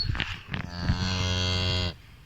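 A belted Galloway cow gives one long, loud, close moo after a few short grunting sounds, with no talk over it.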